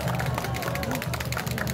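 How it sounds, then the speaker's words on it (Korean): An audience at a speech breaks into enthusiastic applause, a thick, continuous wash of clapping hands mixed with a voice and crowd murmur beneath it, holding steady loud throughout. "조금 더 열광적인 박수를 보내주시면"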